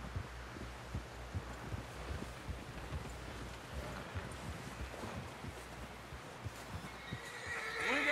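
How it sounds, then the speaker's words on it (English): A horse whinnies in the video game Red Dead Redemption 2 amid a busy, rumbling background of hoofbeats and thumping, the neigh swelling near the end. "Someone help John down off this horse."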